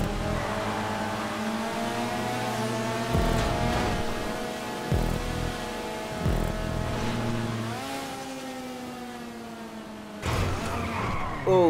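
A car spins out in GTA V: an engine drones and revs while the tires give long skidding squeals with rising and falling pitch, loud and close, ending in a sharp burst of tire noise.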